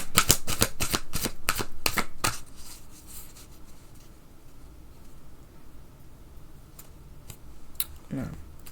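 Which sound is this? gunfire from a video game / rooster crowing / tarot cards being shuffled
tarot cards being shuffled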